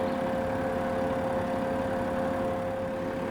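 A sailboat's engine runs steadily while cruising among the Thousand Islands, a constant low droning hum with a faint tonal whine, unchanging throughout.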